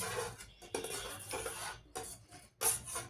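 A spoon stirs crushed cardamom into freshly made sugar syrup for gujiya, scraping and clinking steadily against the pan in close, continuous strokes with short pauses.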